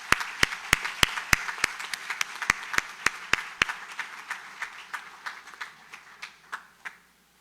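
A small audience at a civic anniversary event for Sabaneta gives a sparse round of applause, a handful of crisp, distinct claps that slow and thin out before stopping.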